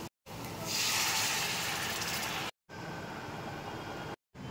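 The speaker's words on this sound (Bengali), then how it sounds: "এবার আমি এটার মধ্যে জল অ্যাড করব।" Water hits fried potatoes and spices in a hot pan for Bengali dum aloo, setting off a loud, close hissing sizzle that swells, then continues steadily between brief cuts to silence.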